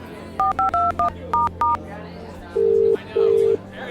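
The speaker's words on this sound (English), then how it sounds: "Theo picked up his phone and called Elise." Telephone number dialed on a keypad: six quick touch-tone beeps in an uneven rhythm, followed by two longer ringback tones, clear and close as a drama sound effect.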